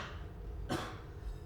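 A single short cough from a person in a stage play, a brief burst midway through that stands out over a quiet, hushed room.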